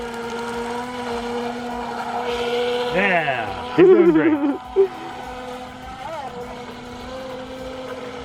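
A small brushless RC speedboat motor whines steadily on the water, pitch rising and falling as it speeds up and slows, under brief talk nearby.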